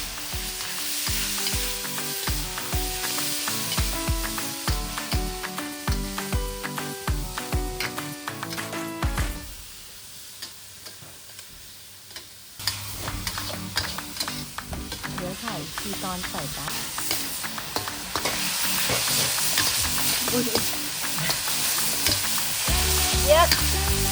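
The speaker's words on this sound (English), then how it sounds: "mix the filling and stir fry until cooked" Spring roll filling stir-fried in a pan, a dense sizzle with rapid repeated spatula scrapes and clatters, easing briefly midway before returning louder and busier.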